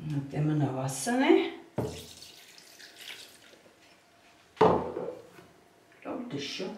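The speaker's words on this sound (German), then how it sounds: "Dann geben wir noch Wasser rein." Water poured into a blender jar for a carrot-green smoothie, a short splashing gush partly under a person's talk, followed by quieter trickling and another brief splash.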